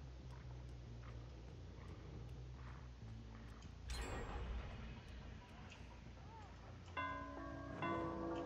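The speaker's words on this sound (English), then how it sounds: "Didn't you hear the bell?" A bell tolls inside the Dead by Daylight horror game, sounding as bright, ringing tones over a constant low rumble of ambience, with short footstep-like and rustling noises scattered through.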